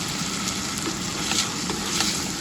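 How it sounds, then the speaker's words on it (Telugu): A steady, close hiss and crackle of red lentils frying in hot tempering oil, with no pauses. "సో ఒక రెండు నిమిషాలు చక్కగా వేగనిద్దాం ఇప్పుడు చూడండి ఇలా వేగుతుంది"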